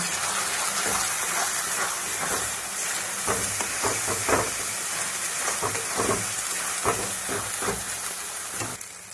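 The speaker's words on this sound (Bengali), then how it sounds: "দিয়ে দেবো 1 চামচ হলুদ গুঁড়ো, দিয়ে ভালো করে মশলাটা কষিয়ে নেব।" Spice paste of chilli and turmeric sizzles in a pan during a cauliflower and potato curry, a loud continuous hiss with repeated scraping stirs across the whole stretch, no talking.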